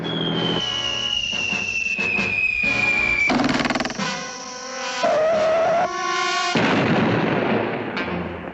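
Cartoon bombs from a 1960s animated short whistle down in long falling tones, then burst into loud booming explosions, several drops and blasts overlapping with no talking.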